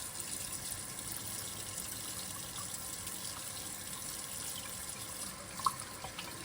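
Tap water running steadily into a sink while a knife is rinsed, a continuous soft hiss with a faint clink near the end.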